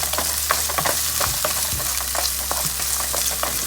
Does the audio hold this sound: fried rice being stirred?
yes